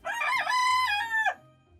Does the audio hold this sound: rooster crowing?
yes